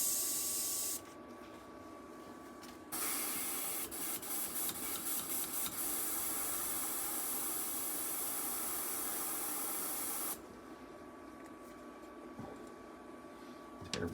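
A finicky airbrush sprays paint in a steady, close hiss that runs for about nine seconds, then cuts off into quieter background noise, with no talking.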